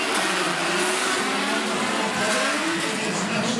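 Autograss race cars launch from a standing start at Coventry Stadium, a loud, dense roar of several engines revving hard throughout, with a brief hint of tire squeal and no talk.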